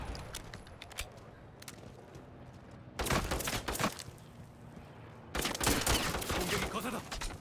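Bursts of automatic gunfire in Modern Warfare multiplayer, a light rattle of distant shots early on, then two dense, louder volleys of rapid fire, with faint voices underneath.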